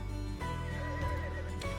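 A horse whinnies in a Roblox horse game, a quiet shrill neigh lasting over a second, set against a low steady background hum.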